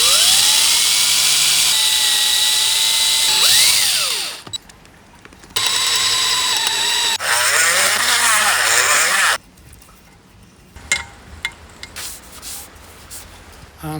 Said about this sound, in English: these two chain guide bolts are snapped, so I'm going to have to grind these out